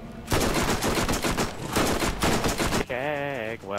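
Rapid automatic gunfire from a weapon in the video game Borderlands rattles loudly in dense bursts, followed by a short electronic warbling game effect.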